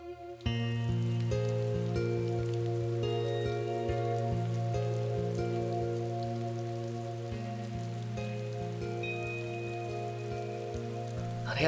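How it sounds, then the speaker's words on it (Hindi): Steady rain falls throughout, with fine drops pattering continuously under a sustained, layered musical drone. "काश के ये बारिश कभी भी न थम सके"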